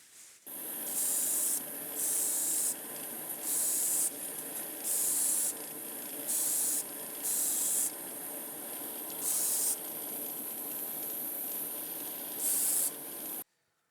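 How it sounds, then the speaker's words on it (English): An aerosol spray can hisses in a long continuous stream while spray painting a Matchbox Lamborghini Miura model car, broken by a series of short, louder bursts of spraying, close up. "I'm going to spray it straight."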